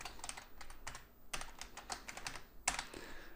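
Someone types briskly on a computer keyboard, a close, quiet run of rapid clicking keystrokes with short pauses and one sharper final tap.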